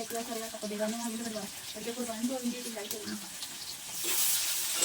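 Curry base sizzling and frying in a pan as sliced onion goes in, a steady close crackle with stirring, brightening into louder hiss near the end, under a voice talking.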